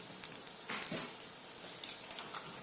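Butter and spices sizzle faintly in a pan while eggs fry for egg biryani, a quiet continuous crackle with a few soft stirring clicks.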